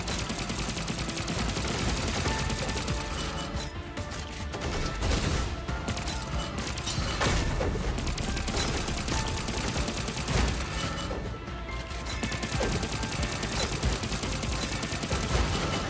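Dense, sustained gunfire from a gun in the video game Punishing: Gray Raven, rapid continuous bursts with heavy recoil, loud and steady throughout without pause.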